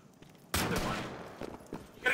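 Gunfire aimed at a general's tanks in a World War II shooter video game: a sudden loud burst of rapid shots, then a few fainter follow-up cracks.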